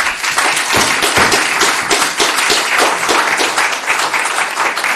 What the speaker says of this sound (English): applause is not allowed or any signs